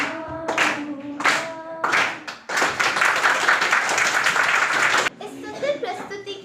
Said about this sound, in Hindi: इस सुंदर प्रस्तुति के लिए तालियों की आवाज रुकनी नहीं चाहिए।